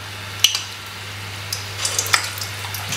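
Potato bonda frying in hot oil, a steady soft sizzle with sharp spits and crackles popping here and there over a low hum.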